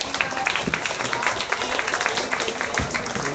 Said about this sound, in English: Let's give these two a very nice round of applause on a nice pair of boars.